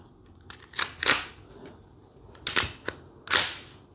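The slide of a Glock 26 pistol is pulled back by hand during a function check, giving a few sharp, close metallic clicks and clacks in quick succession with short pauses between them.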